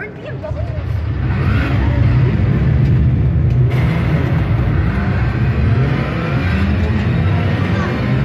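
A BMW in the Forza Motorsport racing game, its engine droning and revving continuously at a loud, steady level throughout, with a brief dip partway through.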